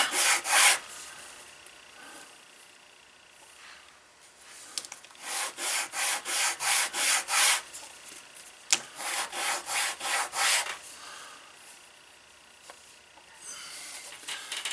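The edges of a leather two-pocket card wallet are sanded in bursts of quick, rhythmic back-and-forth rasping strokes, close and alone, with pauses and one sharp knock between the runs.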